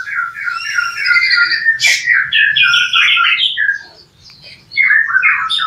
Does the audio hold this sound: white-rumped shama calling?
yes